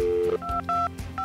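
Telephone keypad dialing tones, several short distinct beeps in quick succession, clear and close.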